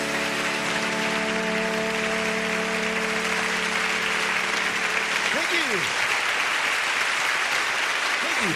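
Audience applauding after a song on a TV show, steady loud clapping as the last sustained musical notes die away, with a brief voice breaking through.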